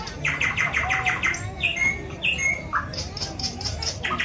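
Bird sound effects play at an exhibition featuring honey bees, insects and many kinds of birds. Rapid repeated chirps give way to scattered squawks and tweets over a steady background hum.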